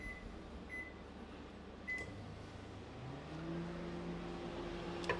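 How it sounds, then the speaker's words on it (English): A microwave oven runs in short bursts to melt chocolate, giving off a steady low hum whose pitch rises partway through, with faint beeps and small clicks near the end. "we're going to give it very short blasts in the microwave"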